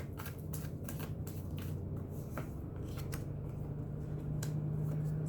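Tarot cards are shuffled close up in a continuous run of crisp riffling and flicking card noises, steady and fairly loud over a faint low hum, with no talking.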